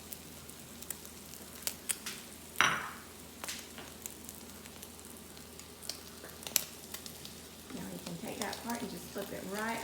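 An omelet cooking in a frying pan, soft crackling sizzle with scattered sharp pops and spatula scrapes, one louder clatter early on and a rising fizz toward the end.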